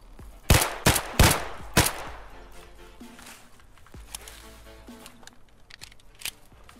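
Gunfire in Escape from Tarkov: four loud, sharp shots in quick succession, then a quieter spell with a few scattered, fainter shots and light handling noises.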